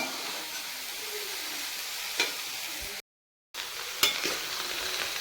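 Mixed pickle being stirred in oil in a pan over a low flame, a soft steady sizzle with a few faint scraping clinks, broken by a brief silent gap.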